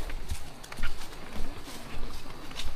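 Water buffalo hooves clop softly and irregularly on the ground, an animal walking nearby amid outdoor background noise.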